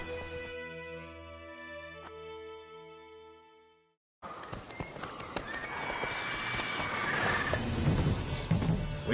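Roach the horse gallops in The Witcher 3: Wild Hunt, a dense patter of hooves that starts abruptly after a calmer, tonal stretch and grows busier toward the end.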